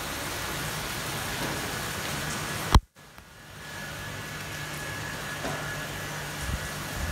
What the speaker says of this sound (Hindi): देखे बड़ी तेज किस्म की बारिश हो रही है यार